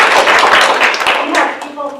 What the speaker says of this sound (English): Round of applause for those folks.